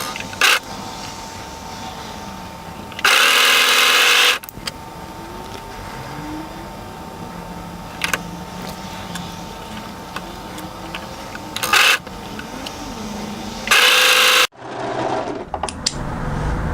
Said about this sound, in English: now I'm going to overlock both of the shoulders